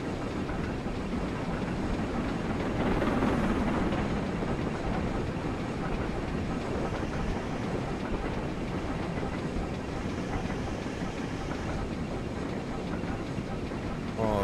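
A locomotive drives a construction train in Train Simulator Classic, with a steady rumble and rail noise running throughout at a fairly constant level, briefly swelling near the start.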